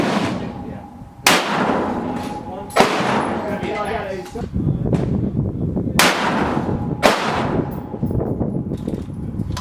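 Rifle shots from a 6.5 Creedmoor or .308, five sharp loud reports spaced a couple of seconds apart, each with a short ringing echo, over a steady background rumble; no clear talk between shots.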